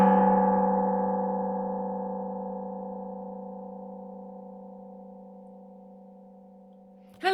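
A single struck gong rings out with a long, slowly fading metallic hum, ending in a brief sharp knock.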